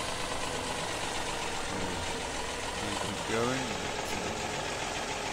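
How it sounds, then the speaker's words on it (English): A farm tractor engine idles steadily near bales and livestock work, a constant low rumble throughout, with someone speaking briefly over it. "the tractor is doing a grand job"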